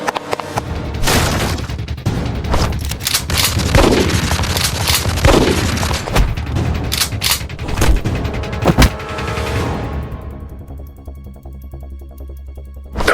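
Rapid machine gun fire in a LEGO Batman cartoon fight: dense, loud bursts of automatic gunshots with sharp booms and shattering impacts, continuing for several seconds before a sweeping tail-off.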